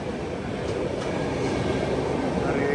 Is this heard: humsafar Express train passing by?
yes